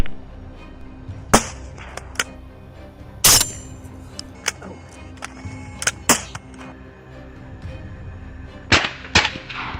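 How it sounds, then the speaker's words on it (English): Sharp gunshots ring out during a wild boar hunt, about a dozen cracks at irregular intervals, some loud and close, others fainter, over a low background rumble. "Gunfire rang out sharply"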